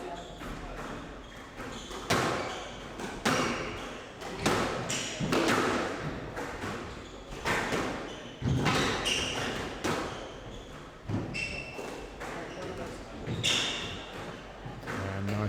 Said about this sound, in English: Nice shot again, using the drop with no pace.